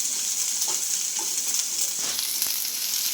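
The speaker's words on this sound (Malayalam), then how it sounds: "ഇളക്കി കൊടുക്കാം" Vegetables sizzling and frying in a pan as a thoran of veli cheera with mustard seeds is stirred, a steady close hiss with a few soft scraping stirs.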